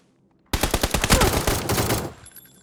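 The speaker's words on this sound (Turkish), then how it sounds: "Şu silah nasılmış bir deneyelim" Rapid automatic gunfire from a weapon being test-fired in PUBG: Battlegrounds, a loud burst of closely spaced shots lasting about a second and a half after a short quiet lead-in, then trailing off.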